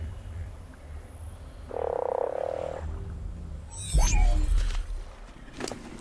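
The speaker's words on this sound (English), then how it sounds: "I have an aberrant frog." An aberrant frog in the video game Ark gives a loud, buzzy croak, followed by a brief burst of squelchy, sweeping noises and a fainter croak near the end.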